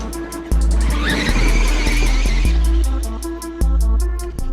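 A battery-powered RC car on a 4S pack driven at full throttle, its electric motor whining loud and close with rising and falling pitch, bursts of tyre scrub and abrupt shifts as the throttle changes.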